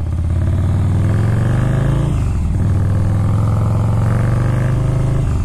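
A Harley-Davidson motorcycle rides along a road near Beachy Head, its loud, steady engine note rising and falling with revs, a brief dip around the middle before the throttle opens again, close and continuous.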